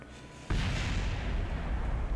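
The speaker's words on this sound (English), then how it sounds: "More explosions." Spacecraft pieces explode in Kerbal Space Program, a sudden loud boom about half a second in that turns into a sustained, rumbling roar that holds to the end.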